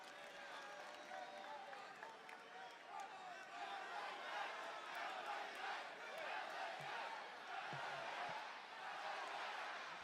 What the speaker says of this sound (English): you can hear here in Southern California the crowd rallying support for the Megastar